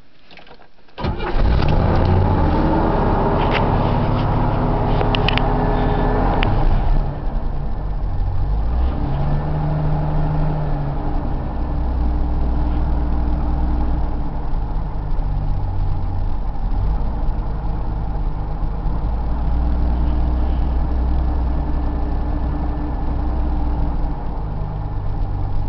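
A 1979 Chevrolet Camaro cranks briefly and fires up on a cold start, then settles into a loud, steady, rumbling idle that runs continuously close to the microphone.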